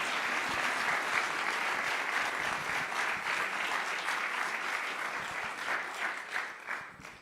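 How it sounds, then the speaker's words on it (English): An audience claps in steady, sustained applause for about seven seconds, a dense wash of hands that tapers slightly toward the end, with no voices over it. "So just one more big round of applause"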